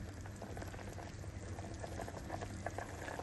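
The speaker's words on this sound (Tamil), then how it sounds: "இப்போ நல்லா இது கொச்சிச்சு" Broth for chicken vermicelli biryani boils steadily in a pot, a soft continuous bubbling and popping, faint and close, with no talking.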